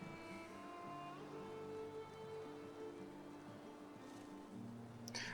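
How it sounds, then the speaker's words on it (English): Rain falls in the Valheim video game, a soft steady patter under sustained musical tones, with a brief louder splash near the end. "I'd like to wait for it to stop raining"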